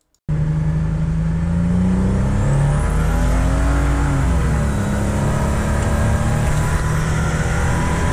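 A boosted engine in a 1982 Grand Prix starts up abruptly and runs loud and close, rising in a rev and then settling back to a steady, throaty drone with no talking.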